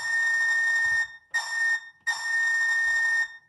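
Steam-style whistle from an Athearn Genesis SP C-50-8 model caboose sounding a crossing sequence: two long blasts, a short one, then another long blast, clear and close with nothing else heard.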